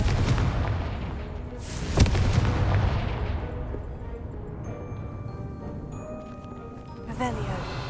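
Confringo, a fiery explosive spell cast in Hogwarts Legacy, goes off as one sharp, loud blast followed by a rolling rumble over dense game ambience, then fades into quieter shimmering magical tones and a brief crackle near the end.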